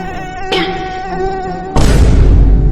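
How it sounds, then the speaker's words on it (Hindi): Cartoon dengue mosquitoes buzz with a thin, steady, high whine, joined by a sharp burst midway and then a loud, dense noisy swell near the end. "अरे ये कैसे मच्छर है? लगता है ये कोई डेंगी मच्छर है।"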